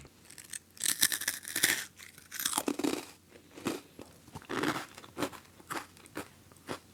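Repeated crisp crunches of someone biting and chewing a hard plum wasabi Japanese rice cracker, close to the mouth, in irregular bursts with short pauses.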